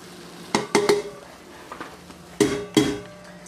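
Cooked peppers are scooped and dumped out of an ISEC cooker with aluminum puck thermal storage. Two pairs of close, sharp metallic clanks of utensil against pot are separated by quieter scraping.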